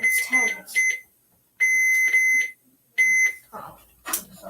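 Repeated electronic beeps from an alarm clock being set, in three sustained bursts with pauses between, heard close up while people talk over and between them.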